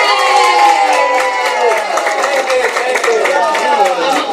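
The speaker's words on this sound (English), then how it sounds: "How about another, big hurrah cheer for Amanda and the assembly crew?" Audience at a poetry reading event cheering loudly for Amanda and the assembly crew, a dense wash of shouting voices with whoops and some clapping that holds steady for several seconds.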